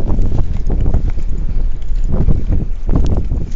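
Heavy gusts hit the microphone at a fishing spot, a loud, low, roaring buffet that swells and fades in uneven waves across the whole stretch, with no other distinct sound.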